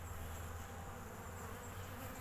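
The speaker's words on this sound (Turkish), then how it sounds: "Kenara doğru toplanmış arılar." A dense, steady buzzing of many honeybees in a hive, continuous and close, with no pauses or voices.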